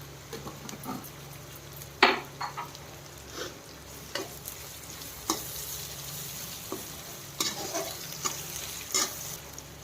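Cumin seeds sizzle and crackle steadily in hot oil in a pan while making Andhra-style gongura curry, with sharp louder pops and a few stirring scrapes breaking through now and then; no voices.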